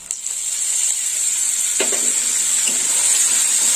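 Ground tomato paste fries in a pan with spices for a potato and egg curry, giving a loud, steady, bright hiss with a couple of soft stirring scrapes partway through.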